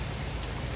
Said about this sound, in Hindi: आज पंजाब और हिमाचल दोनों जगह ये बारिश हो रही है।